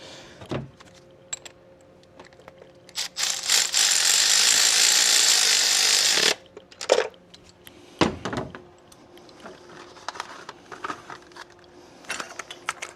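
Ratcheting with a magnetic swivel socket on the spark plugs of a 2012 Dodge Avenger, heard as bursts of close mechanical clicking, one long steady stretch in the middle and scattered shorter bouts of turning after it.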